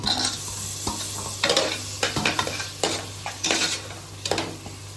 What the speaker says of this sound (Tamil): இப்போ கட் பண்ண தக்காளி சேர்த்துக்கிறேன்